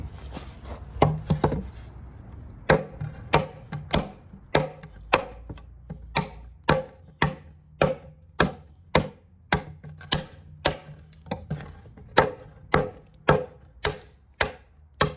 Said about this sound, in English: Let's just chop through this.